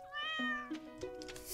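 A cat meows in Stardew Valley, a farming video game, giving a few clear, tonal meows in quick succession that are close and fairly soft, with no other sound around them.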